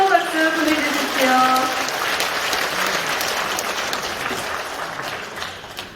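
Steady applause from an audience at a People Power Party members' training event in Gumi, sustained for several seconds, with a voice speaking over the clapping at the start.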